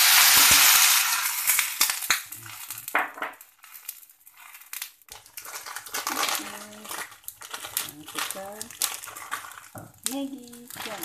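Water is poured into a pan of softened garlic for curry Maggi noodles: a loud rushing hiss at first that settles into quieter sizzling and clinks of utensils, with a voice talking over it.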